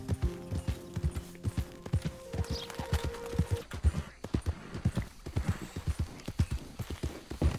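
Steady clip-clop of horse hooves trotting at an even rhythm in Red Dead Redemption 2, close and clear, with a faint mechanical whir in the first half.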